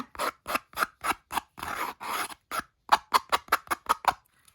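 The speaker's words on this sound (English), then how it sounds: "And I also need to sand around this little bottom part here." Sanding around the edge of a paper collage gives a series of short, close scratchy rubbing strokes, roughly a dozen in quick rhythm with a longer pair in the middle, with no voices.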